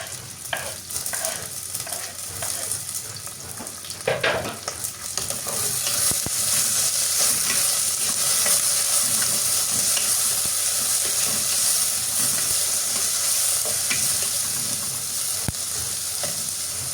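Chopped onions and tomatoes sizzle loudly in a hot pan while being stirred, with scraping strokes early on that give way to a dense, continuous frying hiss.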